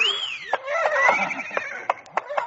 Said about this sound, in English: Give every man a horse he can ride, and away we go.